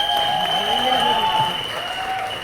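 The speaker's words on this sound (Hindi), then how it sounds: "ताली बजा के दिखा दी।" Audience applause at a live stage event with Rajpal Yadav, a steady dense clapping that fills the whole stretch at an even level with no voices over it.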